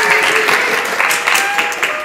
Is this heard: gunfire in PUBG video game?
no